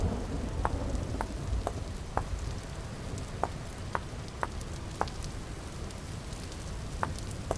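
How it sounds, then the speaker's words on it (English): A heavy rainstorm in the video game Vintage Story, with a constant rushing downpour and a low rumble of thunder, punctuated by regular sharp drips or ticks, continuous and without talk. "I am in this really wicked storm and I'm really hoping I don't get struck by lightning."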